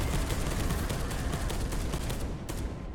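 Dense, continuous gunfire from weapons in the Space Hulk Deathwing video game, a sustained roar of rapid shots that barely lets up for the whole stretch, with a slight drop toward the end.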